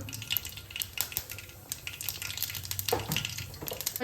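Mustard seeds and cumin sizzle in two tablespoons of hot oil while paneer bhurji is being made, giving a close, steady frying hiss with scattered popping crackles and no talking.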